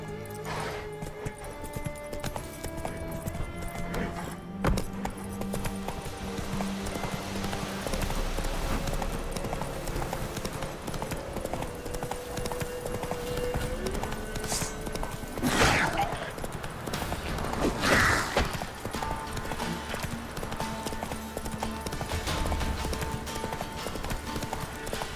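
Horse hooves clip-clopping at a steady trot in The Witcher video game, a continuous rhythmic clatter over game ambience and background music, with brief louder bursts midway.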